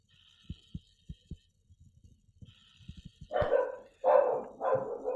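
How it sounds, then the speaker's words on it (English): After a run of soft, regular thumping pulses, a dog lets out three loud, close barks in quick succession. "a dog barking"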